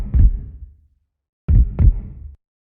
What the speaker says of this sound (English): just a heartbeat sound effect that I've got in Serum